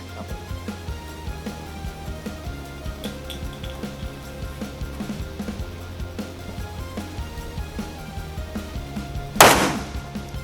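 A single loud shot from a Rock Island Armory Tac Ultra 9mm 1911 pistol cracks near the end, sharp and close with a quick fading tail, after a long stretch of steady background rumble and noise at the range.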